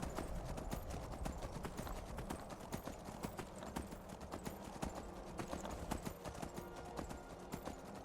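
Horse hooves clip-clop in a steady, brisk rhythm as a mount trots through The Elder Scrolls video game, the even beats continuing close and clear over faint game ambience.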